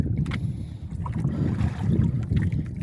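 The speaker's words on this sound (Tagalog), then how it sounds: "yung hangin malakas na hangin galing sa bukirin" Strong wind blowing in from open farm fields buffets the microphone in a constant low, gusty rumble, with water faintly churning underneath; no one speaks.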